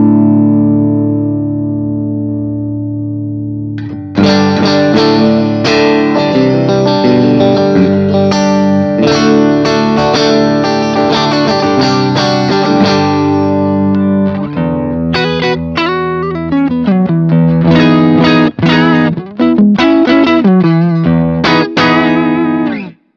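Electric guitar through an amp model on a BOSS GT-1000 multi-effects unit, set near edge-of-breakup with bass raised and treble trimmed: a ringing held chord, then busy strummed chords and picked phrases, loud and close with no talking.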